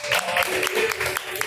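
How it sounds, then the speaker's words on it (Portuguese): A congregation claps in a quick, steady rhythm at a live Pentecostal church service. The claps come as a continuous run of sharp bursts over a room full of people. "as palmas bem alegre avivada para Jesus"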